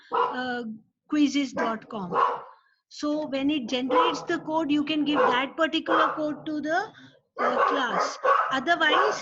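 Dogs bark and yip in a home during an online educators' chat, mixed under continuous talk that carries on throughout.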